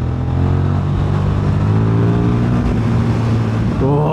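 KTM Super Duke motorcycle engine revving up close and loud, a steady throaty drone that builds and then drops as the revs change near the end.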